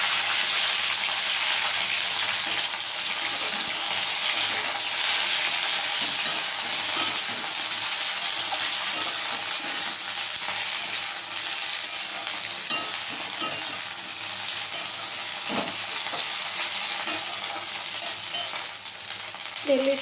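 Split okra frying in hot oil in a pan, a steady close sizzle and crackle with occasional scraping and stirring clinks throughout.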